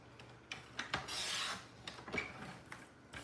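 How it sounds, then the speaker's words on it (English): Paper trimmer slicing cardstock for a handmade card, heard as a few short scraping, rasping strokes with light taps, close and quiet, no talking. "We will trim this down again to 4 by 5 1/4."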